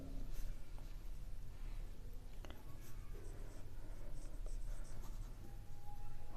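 Chalk or marker writing on a board during a maths lesson, faint scratchy strokes in short bursts over a low room hum, with no talking.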